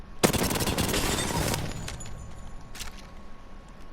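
R99 submachine gun fitted with attachments in Apex Legends, heard as one loud, close burst of rapid automatic fire lasting a little over a second, followed by quieter clinks and a short second sound.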